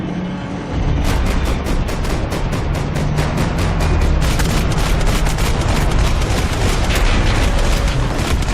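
Heavy gunfire erupts in Max Payne 3 after a brief quieter lead-in, then continues as loud, rapid, overlapping bursts with booming shots throughout.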